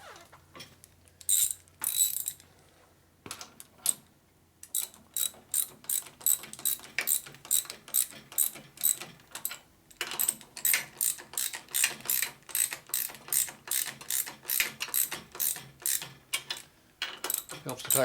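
Fasteners being tightened with a ratchet wrench during a Harley-Davidson shovelhead stroker big bore motor build: long runs of quick, crisp clicks in steady bursts, close and fairly loud, with brief pauses between strokes.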